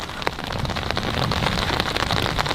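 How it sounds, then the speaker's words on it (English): Rain patters steadily on an umbrella on a cold day, a dense, even spatter with occasional sharper drops, close and continuous with no talk. "the sound of the rain falling on this umbrella is gonna get recorded"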